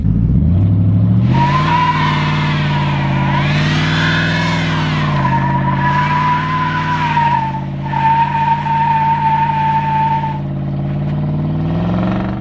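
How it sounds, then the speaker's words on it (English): A Nissan Titan pickup truck's engine roars steadily during a burnout while tires squeal and skid in a long, wavering screech, with brief dips before the noise resumes. "It's a lot harder to do burnouts in this thing than my last one"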